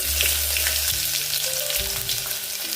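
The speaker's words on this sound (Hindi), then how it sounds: "अभी इसमें डाल देंगे राई 1 चम्मच, आधा चम्मच जीरा, अभी इसमें डालेंगे लहसुन की कलियाँ।" Mustard seeds, cumin and garlic cloves frying in hot oil, a steady close sizzle with crackling spits throughout and no talking.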